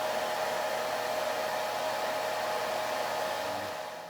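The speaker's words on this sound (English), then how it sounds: "we have fully diffused Courtney, dried her under the hood dryer, which is the equivalent of air drying" A hood hair dryer runs steadily throughout, a close, loud, constant airy whoosh with a faint motor hum that tapers slightly at the very end.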